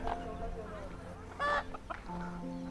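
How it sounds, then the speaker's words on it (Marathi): Chickens roaming in a Konkan village give a few soft clucks, with one brief sharper call, over quiet outdoor background noise and faint murmuring. "कोंबड्या वगैरे मस्त फिरतायत पुढे"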